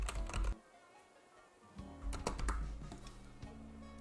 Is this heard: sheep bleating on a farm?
no